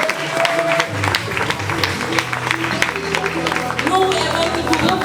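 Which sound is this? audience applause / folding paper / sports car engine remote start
audience applause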